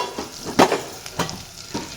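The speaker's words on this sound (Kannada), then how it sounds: "ಈರುಳ್ಳಿ ಬೆಂದಿದೆ ಇವಾಗ ಕರಿಬೇವು ಹಾಕ್ತಾ ಇದ್ದಾರೆ" Curry leaves go into onions frying in a pan while rasam is being cooked, giving a steady sizzle broken by a few scraping stirs at close range, with no talking.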